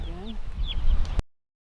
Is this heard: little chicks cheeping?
yes